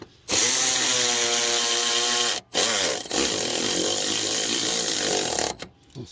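A power tool whirs loudly in bursts, tightening a bolt with a 10mm socket during a water pump replacement on a 2004 Chevy Tahoe, with short pauses between runs.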